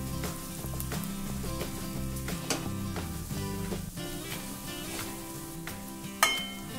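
Turmeric, asafoetida and coriander powder sauté in hot oil for batata vada, making a dense, continuous close sizzle with stirring scrapes and a louder clink near the end.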